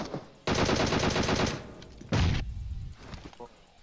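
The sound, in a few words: gunfire in a video game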